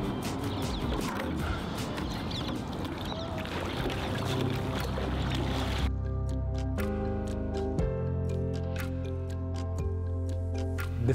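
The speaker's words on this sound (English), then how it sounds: "You hear that water moving past the bow." A rowing boat moving through water, with a steady rush of water and sharp rhythmic clicks of the oars. Partway through, the water noise gives way to sustained musical tones with the clicks still faintly present.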